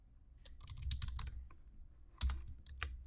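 Someone types a short word on a computer keyboard, the keys clicking close and clear in quick uneven bursts with a brief pause in the middle and no talk.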